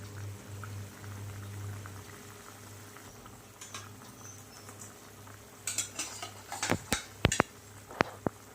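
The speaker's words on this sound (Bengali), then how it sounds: "এবার দিয়ে জলটাকে দিয়ে সবজিগুলোকে ভালো করে ঢেকে সেদ্ধ হতে দেবো" Vegetables in water simmer in a covered pot with a low bubbling hum, followed by a cluster of sharp metallic clinks and taps of utensils and lid toward the end.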